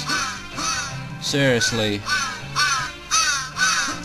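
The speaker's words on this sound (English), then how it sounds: "Oh God, more birds." Repeated cawing bird calls in the Santa Claus in Trouble video game, loud harsh caws recurring in a steady rhythm of several calls, with a voice talking over them.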